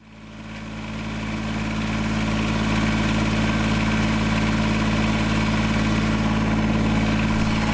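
A Kubota BX23S compact tractor with loader and backhoe idles steadily close by, its engine rising briefly at the start and then holding a constant, even drone with strong low harmonics and no talk over it.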